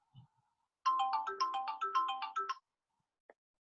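A mobile phone ringtone plays a short, bright melodic tune of quick repeated notes for nearly two seconds in a quiet room, preceded by a faint soft sound and followed by a brief click.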